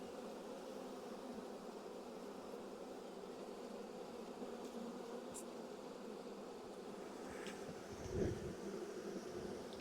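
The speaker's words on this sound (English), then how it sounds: "You can hear the loud buzzing. Those are the drones." Loud, steady buzzing from a large swarm of honeybee drones, their wings humming continuously close to the microphone during a swarm catch, rising briefly near the end with a soft bump of handling.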